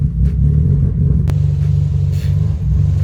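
A Mazda Miata engine idling roughly and very low, a loud steady rumble with slight unevenness, heard alone at close range.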